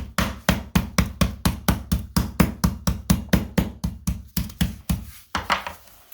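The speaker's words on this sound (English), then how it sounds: "I'm just going to pound them thin a little bit" A rapid, steady series of heavy thuds as chicken breasts are pounded thin with a meat tenderizer mallet, around twenty strikes, close and loud, pausing near the end.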